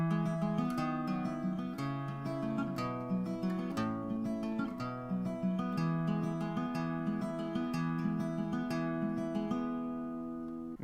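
Played at full tempo, a song intro in a cover arrangement rings out on acoustic guitar as a flowing run of picked notes and chords, close-miked and continuous with no voices.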